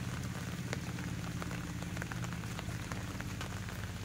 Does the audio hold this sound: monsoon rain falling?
yes